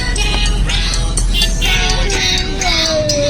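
Car moving through heavy traffic, a steady close engine and road rumble filling the whole stretch with faint passing-vehicle tones and no talk.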